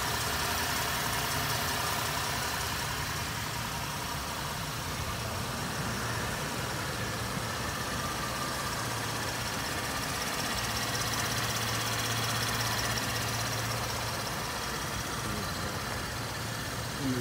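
A 2015 Camaro RS with the 3.6 V6 engine idles steadily, a low even rumble that holds at the same level throughout with no talk over it.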